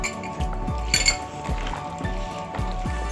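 Fruit chaat being mixed in a bowl with chaat masala and a little tutti frutti, giving a steady run of repeated clinks and soft squishy stirring strokes of a utensil against the bowl, close and moderately loud.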